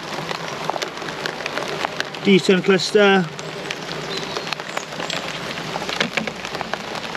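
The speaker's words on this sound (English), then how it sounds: "Raining now. We may have to jump in the car for 10 minutes, let this past." Rain patters steadily at an apiary during beekeeping, a constant close hiss of drops on surfaces, while someone speaks briefly partway through.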